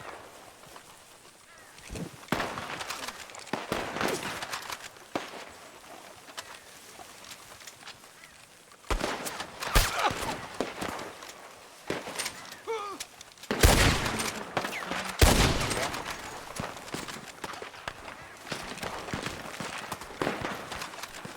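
Gunfire in the Red Dead Redemption 2 roleplay game during a shootout at a tree line, with repeated loud cracks and volleys scattered through dense game ambience and intermittent shouting.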